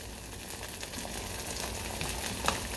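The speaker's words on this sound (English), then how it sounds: "it's popping freaking yellow crap all over the freaking stove" Food frying in a pan on a stove, a steady close sizzle with scattered sharp pops and spatters throughout.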